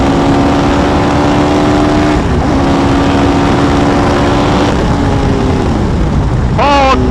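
Hayabusa-powered Westfield car lapping a track at Forge Action Day, engine droning loud and steady with a dip under hard braking into a right-hand corner, then a sharp rev climb near the end.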